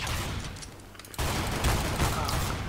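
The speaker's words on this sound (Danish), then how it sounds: "Det spawner, og så skyder ham der mig bare." Gunfire in CS:GO deathmatch: a quieter stretch of distant shots, then a loud dense burst of close firing that continues to the end.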